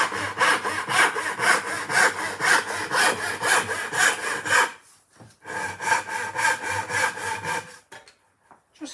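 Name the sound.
hand saw cutting wood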